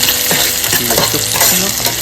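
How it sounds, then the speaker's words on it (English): Curry leaves and ginger sizzle loudly in hot oil for a yogurt curry, crackling and spitting up close, with quick stirring strokes over the continuous hiss. "Put some curry leaf, some ginger,"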